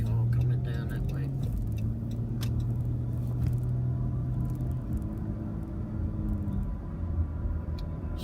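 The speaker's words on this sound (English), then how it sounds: "Only bloody car coming down that way." A single car rolls along a quiet road, a steady low rumble and whir that swells and fades, heard faintly from some distance under a constant background hum.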